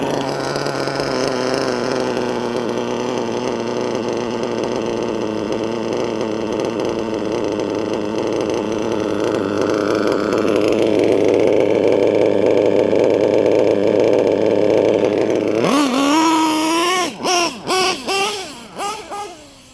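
A small high-pitched nitro engine in a Tekno NT48.3 RC car, an LRP .32 with a Nova race carburetor, idles steadily and loudly, then near the end revs up in several sharp bursts.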